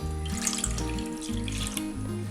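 Milk and water run steadily into a pot, a close trickling splash with faint drips, while a low tonal hum shifts beneath it.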